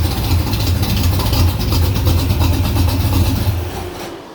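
A 1969 Corvette engine being revved after carburetor tuning, a loud, rough throbbing roar that holds high for several seconds and then falls away toward idle near the end.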